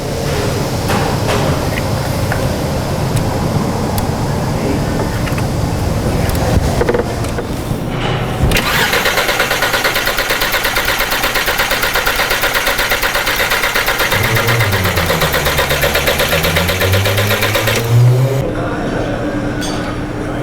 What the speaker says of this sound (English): let's go ahead and get those coils unplugged and crank this engine